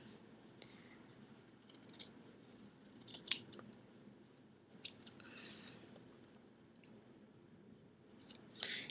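Scissors snip holes into a shirt fabric for a DIY crop top, giving short crisp cuts at irregular intervals, some sharper and louder than others, close up in a quiet room.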